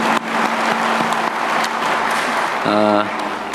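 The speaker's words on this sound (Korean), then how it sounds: "우리 박수나 한번 보내주시면 더 열심히 일하실 것 같습니다." An audience at a Yeongnam advanced-industry event applauds steadily for an introduced official, with dense clapping and a brief tonal sound and voice near the end.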